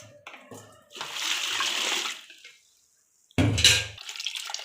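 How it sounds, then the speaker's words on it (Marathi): Wheat grains being washed in water, with bursts of sloshing and swirling water separated by a brief quiet gap, then a louder splash, close up and without speech. "आता याला आपण परत एकदा धुवून घेणार"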